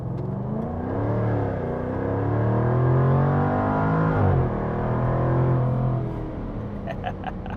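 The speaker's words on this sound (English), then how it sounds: "All right, on the road in the F-Type." A Jaguar F-Type R convertible engine droning on the road, its tone rising and falling through the gears with a loud, steady mid-range hum and a clear upshift midway.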